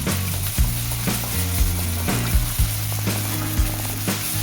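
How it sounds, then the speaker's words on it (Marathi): Golden onions with masala, ginger-garlic paste and turmeric sauté in a pan, a loud, close sizzle with regular scraping strokes of stirring about twice a second, no talking. "व्यवस्थित परतून घ्यायचं"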